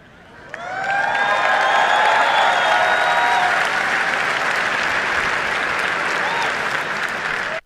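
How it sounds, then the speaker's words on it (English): A large crowd claps and cheers in a played recording, a sudden loud wave of applause with whoops and a rising tone early on, holding steady for several seconds before cutting off abruptly. "Look at all the people that are clapping and so happy for the technology of the Antichrist."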